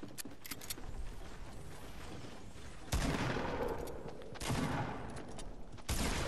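Fortnite gunfire: steady rattling automatic fire with mechanical clatter throughout, and a few louder bursts breaking in at intervals, mid-distance and without talk.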